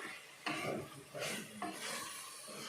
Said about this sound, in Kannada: ಸೊ ಇದನ್ನೆಲ್ಲ ಹಾಕ್ಕೊಂಡು ಮಿಕ್ಸ್ ಮಾಡಿ